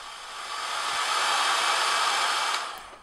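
A hot air gun blows a steady, loud rushing hiss while warming the ends of coat hanger wire, building up over the first second, holding evenly, then tapering off near the end with no voices.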